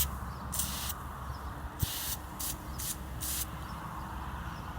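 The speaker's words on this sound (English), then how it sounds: "Go ahead and spray it real good in there." Spray cleaner pumped onto a windshield during a leak repair, several short hissing bursts in quick succession over a quiet background, close and fairly soft.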